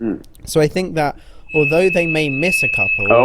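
A house fire alarm sounds as a steady high-pitched electronic tone starting midway, continuing under a man's ongoing conversational speech.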